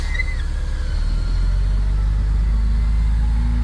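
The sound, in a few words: truck arriving with a load of fill dirt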